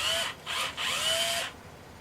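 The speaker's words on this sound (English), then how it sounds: "We have a drill." Small electric drill running in three bursts, starting and stopping with rising and falling motor whine, fairly close and alone in a quiet indoor room.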